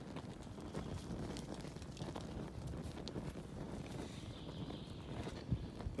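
Strong outdoor wind buffets a microphone in steady, low rumbling gusts, with scattered faint knocks and rustles underneath.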